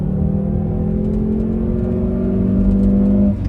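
A 1997 Volvo V70 Cross Country engine holds a steady, droning rev with a faint rising whine, then cuts off sharply near the end; no voices.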